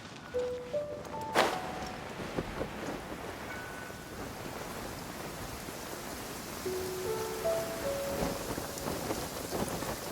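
Steady rain falls throughout in Genshin Impact, with a brief louder crackle early on and soft tonal chimes drifting in and out over the downpour.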